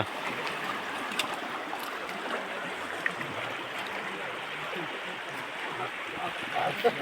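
A village stream runs past a stone used for washing clothes, a steady close babble and trickle of water with occasional small splashes.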